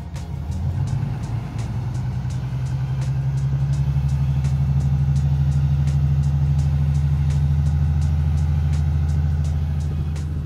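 A Ram 2500 HD truck, a Cummins diesel, rumbling steadily at the tailpipe, heard close and loud as a deep even drone with a regular ticking pulse that holds for the whole span.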